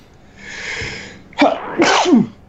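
A person sneezes, a sharp breathy burst followed by a couple of quick voiced exhales, close and loud.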